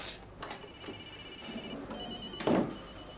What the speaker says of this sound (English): The phones have been ringing since 7 o'clock this morning.